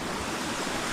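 A river coming down from the mountains in Itogon, Benguet rushes in a steady broadband wash of flowing water, close and continuous with no voices.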